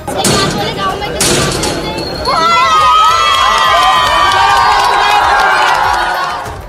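Schoolgirls at a liquor shop cheer and clap loudly as its lock is broken with a hammer, a dense close crowd noise with excited shouts and voices throughout.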